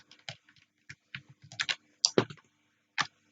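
Bursts of typing on a computer keyboard while playing the roleplay game Emergency Hamburg, irregular clusters of clicks with short pauses, fairly close and moderately quiet, no voices.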